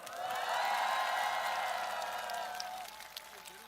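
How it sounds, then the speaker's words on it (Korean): A crowd at an outdoor campaign rally in Chungju cheers and applauds steadily. Dense clapping and shouting hold at an even level, then taper off toward the end. "뜨거운 환호와 박수 부탁드립니다"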